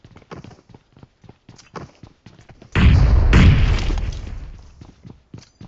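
A loud grenade explosion bursts in a PUBG Mobile match and rumbles with debris for about two seconds. A short series of soft thuds and footsteps comes before it, and no one talks.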